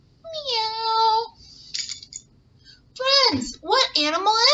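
A voice imitates a cat, giving a drawn-out meow, then a couple of shorter meows after a pause, close and clear in a quiet room.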